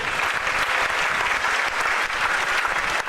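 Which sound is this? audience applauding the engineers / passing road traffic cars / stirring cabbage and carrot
audience applauding the engineers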